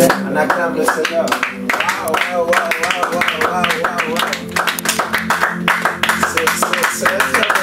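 A church congregation claps and applauds steadily in rhythm, loud and close, with voices singing or calling out over the clapping throughout.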